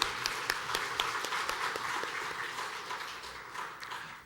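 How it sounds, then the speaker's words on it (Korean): A church congregation at an ordination service for deaconesses applauds warmly with dense, sustained clapping that gradually fades, heard from a distance in a large hall. "우리 뜨겁게 격려의 박수 한번 보내드리겠습니다"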